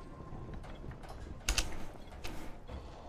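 Keystrokes on a computer keyboard, a brief cluster of sharp taps around the middle including backspace presses, fairly close over a low background hum from a game session.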